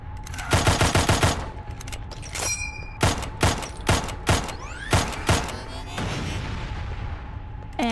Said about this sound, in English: And things are exploding.